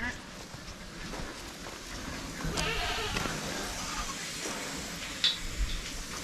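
Goats bleating on a farm at feeding time, with other livestock such as turkeys and ducks nearby; moderate, scattered animal calls over a busy outdoor background, with a sharp knock near the end.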